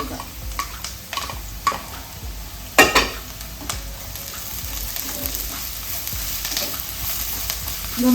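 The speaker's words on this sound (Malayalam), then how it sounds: "ഈ വഴന്ന സവാളയിലോട്ട് നമ്മളിപ്പം ചതച്ച് വെച്ച ഇഞ്ചിയും വെളുത്തുള്ളിയില്ലേ അതിട്ട് കൊടുക്കാം" Crushed ginger and garlic fry with softened onions in a pan for an eggplant curry, a continuous close sizzle broken by scraping stirs and occasional clinks of a spoon against the pan, with no talking.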